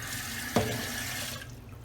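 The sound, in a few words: tap water running into cooking pot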